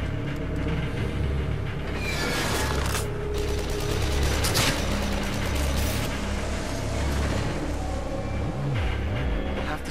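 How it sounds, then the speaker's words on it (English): Enemy guns fire from above in the video game Psycho Break, a loud sustained barrage of shots layered over heavy mechanical rumble and droning background game noise, with no talking. "They're shooting from above."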